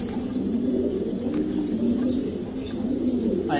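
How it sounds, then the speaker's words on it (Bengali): Pure old-bloodline pigeons coo steadily and continuously at close range, a dense, low warbling chorus layered over faint background chirps. "এই কবুতরের ব্রিড অনেকগুলোই আছে এখানে।"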